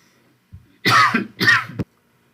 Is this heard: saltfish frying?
no